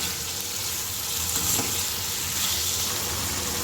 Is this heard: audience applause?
no